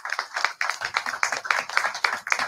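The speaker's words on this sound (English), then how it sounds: "Give him a big round of applause." An audience at a Pan-African community gathering applauds: dense, steady rhythmic clapping from a crowd close by, continuous and fairly loud with no voices over it.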